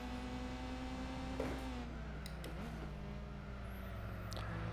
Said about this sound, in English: Why does that thing sound like a swarm of bees?